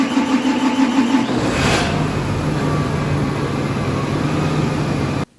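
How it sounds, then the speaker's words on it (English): Combine harvester engine running close by, a loud steady mid-pitched drone with a faint rising whine near the start, then cutting off abruptly at the end. "That's our combine."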